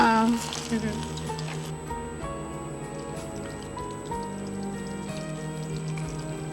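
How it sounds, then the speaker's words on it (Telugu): Something fries in oil with a steady crackle and bubbling, heard under a television cooking show's background music and people talking. "ఆయిల్ లో వీటిని ఫ్రై చేసుకోవాలా"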